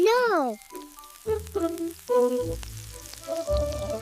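Samgyeopsal pork belly sizzles on a grill at a Korean campsite, a steady frying hiss running beneath brief sung or gliding vocal tones and other close, busy sounds.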